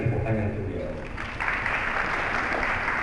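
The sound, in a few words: audience applause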